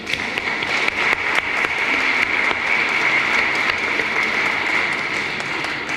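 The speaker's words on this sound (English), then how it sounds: "we should put our hands together and applaud the subject and the verb of this" Audience applause at a book launch at King's House, Jamaica, for Sir Howard Cooke's biography: steady, dense clapping from a crowd, even and sustained throughout, with no voices over it.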